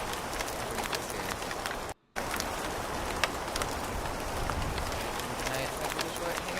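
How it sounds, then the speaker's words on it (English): A rain sound effect plays as a steady, dense hiss of falling drops, continuous and fairly loud apart from one brief dropout. "Rain sound is too loud."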